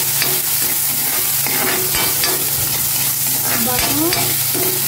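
Garlic, onion and tomato sautéing in a pan, with a loud continuous sizzle under repeated scraping stirs of a utensil against the pan, no talking.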